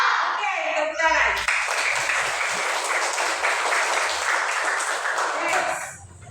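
Schoolchildren in a primary maths class clap together, a dense burst of hand clapping that starts after a brief voice, holds steady for several seconds, then fades out.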